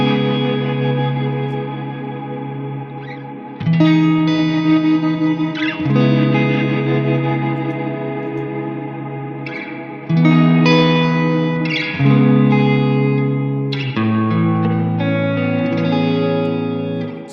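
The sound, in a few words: Strymon BigSky MX pedal chopping reverb effect on guitar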